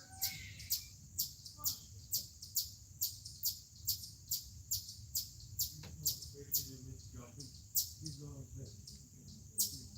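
Birds chirp outdoors in a fast, regular series of bright, close tweets that repeats evenly throughout, over a low background rumble.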